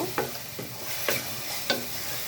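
Broiler chicken korma is stirred in a pan, three distinct scraping strokes spaced about half a second apart over a soft, steady sizzle, close and clear.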